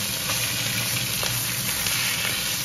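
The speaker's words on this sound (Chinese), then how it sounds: "现在开始炒鸭肉" Duck meat stir-frying in a wok gives off a constant, dense hiss and sizzle, steady in level from start to finish, with no talking.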